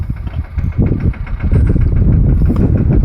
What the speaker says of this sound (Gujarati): આ રીતનું ટ્રેક્ટર રાખી દેવાનું છે